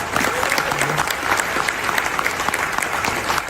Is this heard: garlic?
no